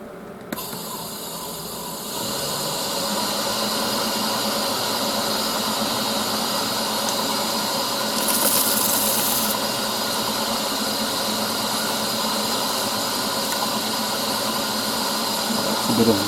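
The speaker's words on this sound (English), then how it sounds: "I'm just going to denib it with a bit of 320" A cherry bowl's first finish coat is denibbed with 320 grit sandpaper, a steady broadband hiss and hum that starts after about two seconds and runs unbroken and fairly loud to the end, with no talk.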